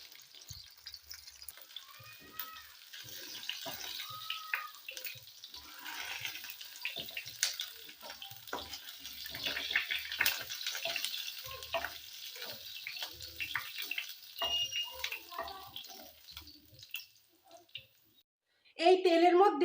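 Paneer frying lightly in oil, a soft continuous sizzle with occasional clinks and stirring under intermittent talk, ending with a brief louder sound.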